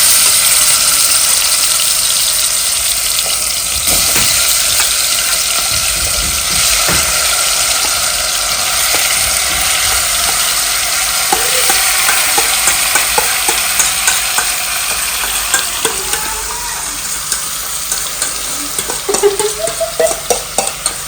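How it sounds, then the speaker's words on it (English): Tomatoes frying and being stirred in a pan for chicken curry: a continuous loud sizzle close by, with scraping and clinking of the spoon growing more frequent toward the end. "How can you mix each and everything, tomatoes, everything in there?"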